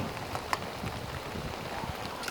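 Rain pattering steadily during a morning freshwater fishing session in a storm, a soft diffuse hiss of drops with a few faint taps, quiet and continuous with no speech.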